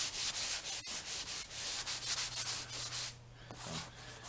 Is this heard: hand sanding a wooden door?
yes